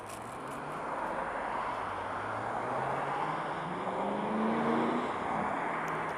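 A red Ford GT40 classic car drives past below, a low engine drone with rising and falling pitch, moderately distant and steady with no talking.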